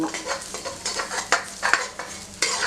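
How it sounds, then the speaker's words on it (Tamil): Black sesame seeds roast dry in a hot iron pan, crackling and popping while a spoon scrapes and stirs them in repeated strokes, close and fairly loud, with no talking. "எள்ளு நல்லா பொரிஞ்சதுனா தான் நமக்கு டேஸ்ட் நல்லா கொடுக்கும். அதுக்காக இந்த மாதிரி நல்லா வறுத்துக்கலாம்"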